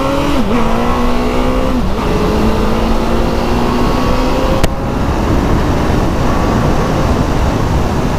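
Street fighter motorcycle accelerates hard, its engine note climbing through several gear changes in a loud, close pull, then settling into a rushing roar of wind and engine with no talk.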